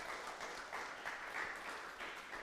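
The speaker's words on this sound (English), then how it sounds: "Let's give another round of applause." An audience applauds a storyteller at a storytelling event, a steady, dense wash of many hands clapping from a moderate distance, sustained without a break.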